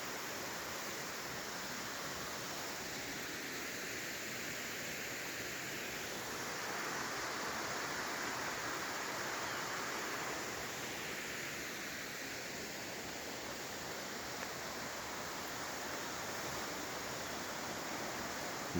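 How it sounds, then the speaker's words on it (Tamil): A stream flows down into a deep ravine near Pooparai in Kerala on an early morning. The water rushes in a constant, dense hiss that stays loud and even throughout, with no voices. "இந்த தண்ணி அப்படியே பள்ளத்தில் ஓடும்."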